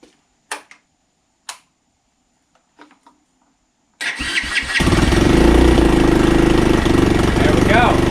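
A Boom Vader Grom clone motorcycle starts with the choke on after a few faint clicks and quiet moments, catching abruptly and settling into a loud, steady close-up run.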